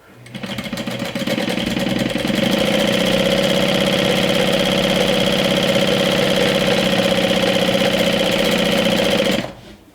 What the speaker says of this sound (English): We're gonna sew the bottom right now with a 1/2 inch seam allowance